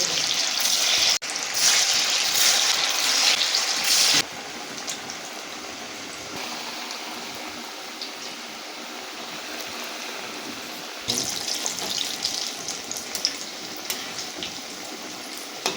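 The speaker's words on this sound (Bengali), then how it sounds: "তেলটা গরম হয়ে গেছে, এবার ধোকাগুলোকে আমি একে একে ভেজে নেব।" Lentil dhoka cakes deep-fry one by one in hot oil, giving a loud, continuous sizzling hiss that drops to a softer, even bubbling midway and then swells again near the end.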